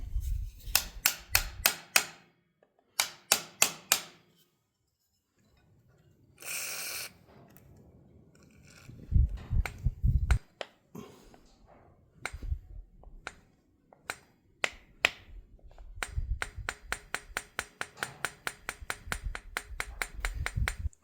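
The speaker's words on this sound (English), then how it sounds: "got my little hammer here, and I'm just going to start tapping away at this" A small hammer taps a stuck valve on an International TD-6 engine in sharp metallic bursts, first in short clusters separated by pauses, then in a fast, steady run of close ringing strikes near the end.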